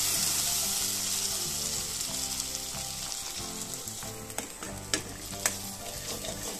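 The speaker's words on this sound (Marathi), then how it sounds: "छान हलवायची एकदम एकसारखी" Masala gravy for restaurant-style paneer butter masala sizzles steadily in oil in a pan while being stirred evenly, with scraping strokes and a couple of sharper clinks near the end; no talking.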